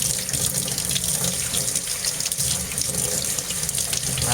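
A steady, loud stream of water pours from a tap while something is rinsed under it, a continuous hissing splash with no pauses.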